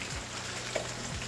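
Kacchi biryani ingredients frying in a home cooking pan, giving a soft, steady sizzle with faint popping throughout and no voices.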